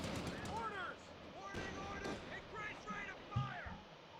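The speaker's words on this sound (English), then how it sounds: "Oh, Panzer Strike spam." Panzer Strike artillery barrage in a World War II strategy video game, with sharp blasts and gunfire cracking through a busy battle mix under overlapping in-game voices.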